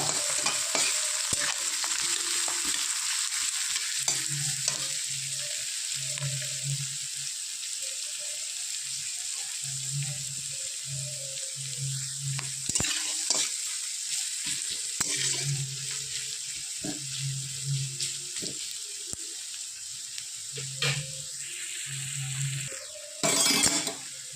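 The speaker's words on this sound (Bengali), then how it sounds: "এবার আমি ভাজবো পেঁয়াজ কুচি। পেঁয়াজটাও লাল করে ভেজে নেব।" Chopped onions sizzle steadily in hot oil, with a spoon stirring and scraping the pan in repeated bursts; no voices.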